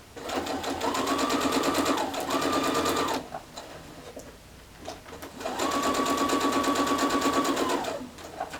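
A sewing machine stitches a mini quilt in two bursts of rapid, even whirring with a short pause between, close and clear, with quiet handling noise in the gap.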